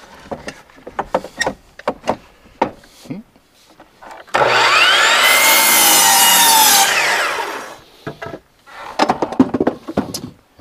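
A saw bites through pallet wood in one steady, loud burst lasting several seconds, preceded and followed by clattering handling noises and shuffling close to the microphone.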